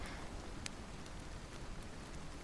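Soft, steady rain falls as a faint continuous hiss, with a few scattered drips ticking on a surface and no voices.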